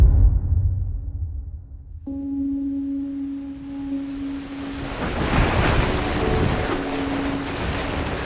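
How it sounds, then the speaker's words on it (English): Stormy sea with broad roaring surf and wind sweeping over it, plus a low sustained tonal hum like a ship's horn or drone sounding through the churning water, rising in intensity over several seconds. "A ship on its voyage across the sea was struck by a storm and went down beneath the waves."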